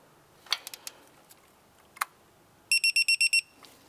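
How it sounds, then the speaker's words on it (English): A torque wrench tightens a knock sensor to 23 foot-pounds on a 2004-2008 Acura TL: a few sharp ratcheting clicks, a single click, then a rapid burst of six loud electronic beeps signaling target torque, with no talking. "Let's go ahead and torque this down to 23 foot-pounds."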